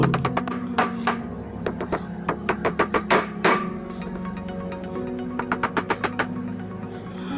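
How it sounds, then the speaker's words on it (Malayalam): A hammer drives nails into wood while a homemade dust pan is built, with rapid runs of sharp, ringing taps in quick bursts and short pauses between them, close and fairly loud over a steady low hum. "ഒരു രണ്ട് മൂന്നാല് ആണി വെച്ച് നമുക്ക് അടിച്ചു കൊടുക്കാം"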